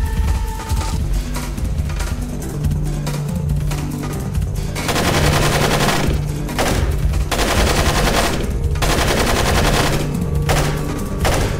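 Sustained automatic gunfire rattles through an oil rig firefight in Splinter Cell, loud rapid bursts stacking into near-continuous volleys with brief pauses between strings of shots.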